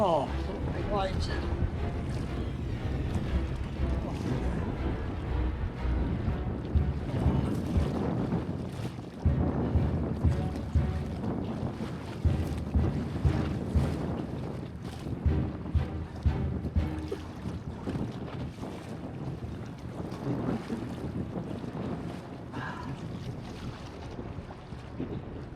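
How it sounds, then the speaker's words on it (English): Wind buffets a solo canoe on Lake Rogen in Sweden as big waves slap and wash around the hull, a loud, continuous roar of water and gusts with a person speaking now and then. "Oh, big waves."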